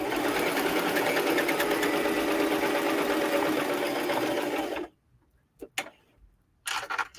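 A sewing machine stitching up a sweatshirt arm sleeve runs loud and fast for nearly five seconds, then stops, followed by a few brief clicks and a short restart.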